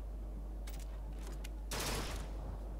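A short gunfire burst from a gun in the game BioShock Infinite, preceded by a few faint sharp clicks, then a loud crackling blast lasting a fraction of a second over a steady low hum.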